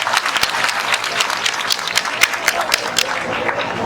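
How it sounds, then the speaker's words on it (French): A crowd at a political party rally claps loudly and continuously, a dense burst of applause with some shouts mixed in, close and full throughout. "Nos 28 députés que je vous demande d'applaudir très très fort."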